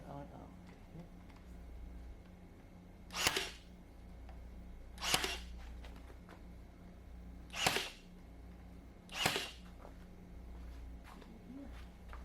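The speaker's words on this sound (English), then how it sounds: "shoot some brads into the miter, locking it in place" A pneumatic brad nailer fires brads into a wooden miter joint on a game table frame, four sharp pops with short air hisses spaced a couple of seconds apart, close and clear over a low background hum.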